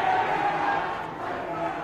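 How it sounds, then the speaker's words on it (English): A crowd cheers at an NAB League 2019 Australian football match between Tasmania Devils and Calder. It comes through as a steady, distant roar that holds for the full two seconds, with no single voice standing out. "Been a big cheer outside."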